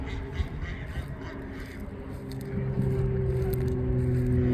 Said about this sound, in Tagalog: Matatawa ako sa ingay nila ng itik.